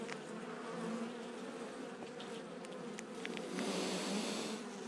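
An open hive of Italian honeybees (ligustica), a queenless colony checked in September, fills the air with a soft, continuous buzz, with individual bees briefly droning louder as they pass close.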